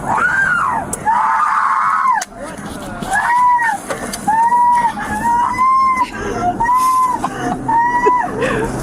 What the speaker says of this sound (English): driving with a screaming woman in the back